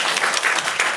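Audience applause at a Korean cinema screening event with the film's director and actors: a dense, steady clapping from a crowd filling the room, loud and close throughout.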